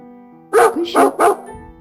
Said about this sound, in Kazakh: ит, күшік,